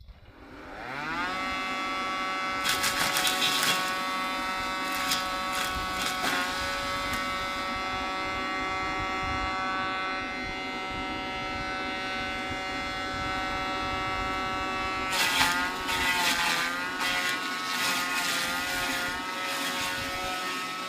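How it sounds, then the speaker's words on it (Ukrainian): A 3 kW 220 V electric wood chipper hums steadily with a strong motor whine, broken by bursts of crackling as thin branches feed through and are shredded, loud and close. "давайте спробуємо 3 кВт двигун і почнемо з тоненьких паличок"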